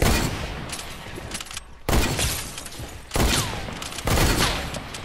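Gunfire in a shooting video game, four sharp loud blasts spaced roughly a second apart, each followed by a decaying rattling tail, with no talk.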